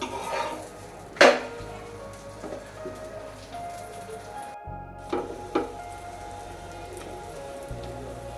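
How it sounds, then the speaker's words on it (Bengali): Parathas fry in a hot pan while being pressed down, giving a soft intermittent sizzle with several sharp clinks and scrapes of utensil against metal, close and fairly quiet. "পরোটাগুলো চেপে চেপে ভেজে নিচ্ছি"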